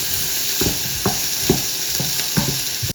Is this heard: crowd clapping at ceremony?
no